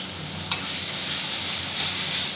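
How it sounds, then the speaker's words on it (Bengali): A spiced filling with chilli paste, cumin, salt and turmeric sautéing in a pan, steady sizzling hiss with a couple of light spoon scrapes, close and moderate, no talking. "ভালো করে কষিয়ে নেব পুরটা।"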